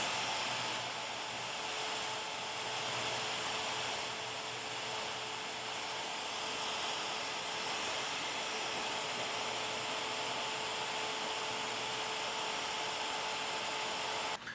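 A machine cutting a feather inlay runs in a continuous, loud, steady drone with a sustained high whine, close by and unbroken for the whole stretch.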